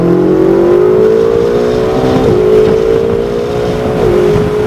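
Ferrari accelerating down a track straightaway, a loud close engine howl rising steadily in pitch with two brief dips at gear shifts, continuous and alone.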